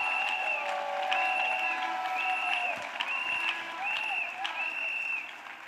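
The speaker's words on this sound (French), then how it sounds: "Yes, clap. Acclamez plus fort que ça. Clap louder than this." Church congregation clapping during a prayer gathering, rhythmic applause mixed with a sustained tonal musical backing and some voices, moderately loud and continuous.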